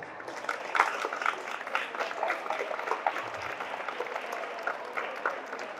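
A school audience at a government high school tiffin box distribution claps for the headmaster, a sustained ripple of many hands applauding steadily from mid-distance without pause, with no talking.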